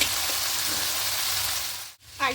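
Potato pieces frying with red chili in a pan, a steady close sizzle running throughout with no talk, briefly cutting out near the end before resuming.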